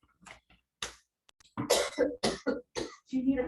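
Someone coughs several times in short bursts, close and fairly loud, with quiet pauses between the first coughs and a rougher cluster toward the end, during a public library board meeting.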